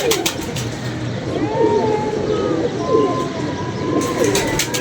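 Pigeons coo outdoors in bad weather, with several soft, rolling coos repeating close by over a steady background of wind-like noise.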